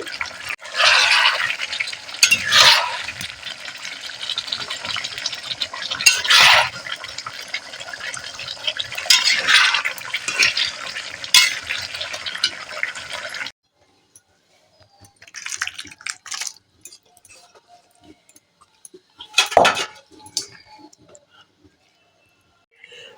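Puti fish curry is poured from a pan, a wet, splashing pour for about thirteen seconds, followed by near silence broken by a few faint scrapes and one sharp clink.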